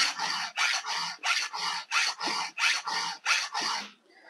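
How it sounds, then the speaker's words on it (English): A hand file rasps over the rakers of a chainsaw chain in about ten even, rhythmic strokes close up, each a short scraping rub, stopping just before the end. "I'm going to take the rakers down, a couple of rubs on this one."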